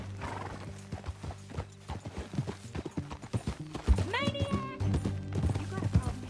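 Horse hooves clip-clop in a steady rhythm in Red Dead Redemption 2, followed by a loud neigh midway, with game voices talking over the riding.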